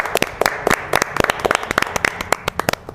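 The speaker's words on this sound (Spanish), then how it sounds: "Un aplauso, por favor." Clapping from a small audience at an organ-donation awareness talk, the sharp claps fairly close and uneven in rhythm, with no voices over them.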